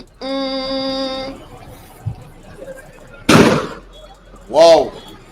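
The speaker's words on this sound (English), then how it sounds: "you can hear the gunfire from where I am" During a street protest, a single sharp, loud bang of gunfire cuts through the background, along with a sustained horn-like tone and people's voices.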